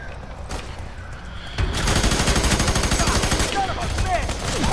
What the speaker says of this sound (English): Oh shit, somebody's shooting me.